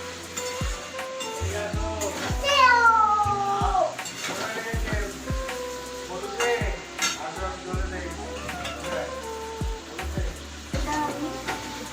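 Spice paste frying in a pan for Bengali mutton kasha, with a steady sizzle, clinks of utensils against the pan and a few stirring scrapes heard up close.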